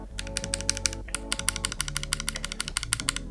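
A regular GMMK mechanical keyboard being typed on at a steady, quick pace, each keystroke giving a crisp, slightly hollow clack close to the listener, with no voices.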